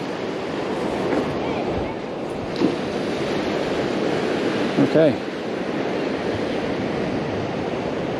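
Ocean waves break on the shore in a steady, broad wash of surf close by, with a brief spoken word partway through.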